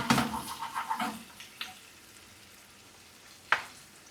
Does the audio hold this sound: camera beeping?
no